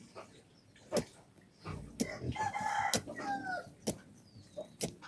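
A rooster crows loudly with chickens clucking around it, sharp nearby clicks and knocks punctuating the scene.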